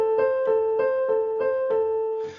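A brief melodic pattern with C sounded before A, repeated as a regular pulse of five or six clear sustained tones, close and even in level, ending with a soft fading release and no speech.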